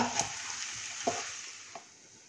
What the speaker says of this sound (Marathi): यामध्ये थोडं फरसाण घालूया, कोथिंबीर घालूया आणि व्यवस्थित मिक्स करूया.